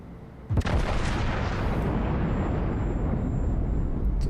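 A battleship's main guns fire shells in World of Warships with one sharp, heavy blast, then a long, dense rumbling roar that keeps going to the end, loud and without voices.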